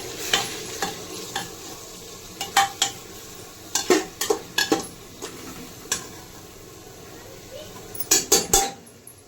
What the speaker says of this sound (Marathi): आता हे वाटत मी याच्यात टाकून देते मी ना एवढं परतून घेते एकदा